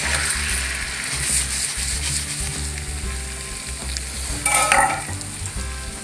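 An omelette fries in oil in a pan for an omelette cake, giving a loud, continuous, close crackle and sizzle, with a brief brighter spatter burst near the end.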